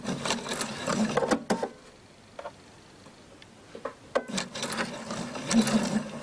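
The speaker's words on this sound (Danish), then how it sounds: "Så det er svært for en symaskine at komme i gang her." A sewing machine stitches a lining with interfacing tape, running in bursts of rapid mechanical ticking that pause and restart, close and steady, with no talk.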